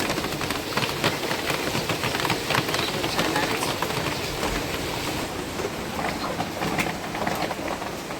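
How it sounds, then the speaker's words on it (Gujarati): Monsoon rain pours steadily outside a home at dusk, making a dense, loud, unbroken rushing hiss with fine crackling texture and no gaps. "વરસાદ કંઈક આવો છે જો"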